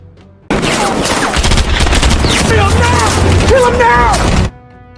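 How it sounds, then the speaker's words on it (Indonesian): Dense, continuous rapid gunfire from a film shootout fills the scene at close range, loud and sustained for about four seconds before cutting off, with voices shouting beneath the bursts. "Tetapi kemudian terjadi baku tembak."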